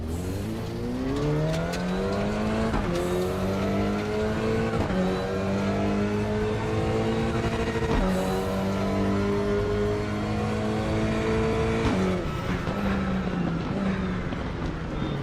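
A regular road car driven in the RaceRoom racing game, its engine droning steadily and climbing in pitch through repeated gear changes, loud and continuous with no gaps.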